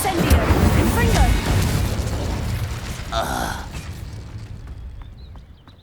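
Fiery spell blasts and magical combat effects from the Hogwarts Legacy video game, a dense run of loud bursts and booms with one bright crackling flare midway, over a busy game soundscape that fades toward the end while a voice shouts spell names.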